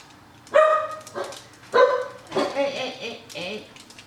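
A dog barks and yips a few times nearby, short sharp calls with a voice speaking between them.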